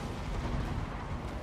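Cannon and artillery fire in the Total War: Warhammer video game during a dwarf army battle, a dense, continuous rumble of booming shots and blasts heard without talk.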